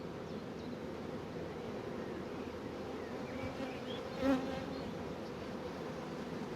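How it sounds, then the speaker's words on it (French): Honey bees buzz around an open beehive as a super is handled, a dense continuous hum that stays even throughout, with one louder bee briefly passing close. "les abeilles sont bien occupées à rentrer le nectar"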